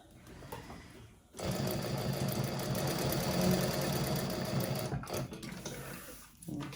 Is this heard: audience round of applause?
no